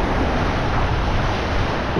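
Steady, strong wind on a beach during surf fishing roars and buffets the microphone, with a constant rushing wash of noise and no voices.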